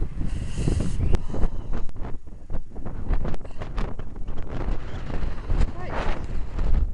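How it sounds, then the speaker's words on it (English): Strong, gusty wind blasts across the microphone outdoors in the cold, a loud continuous buffeting roar that surges and drops in rapid gusts. "It's blowing a gale here."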